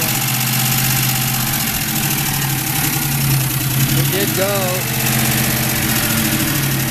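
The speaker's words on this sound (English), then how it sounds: "you can hear it idling higher and lower" A car engine idles unevenly at a Mustang ranch, its steady rumble rising and dipping in speed with a faint ticking underneath, while someone talks briefly over it.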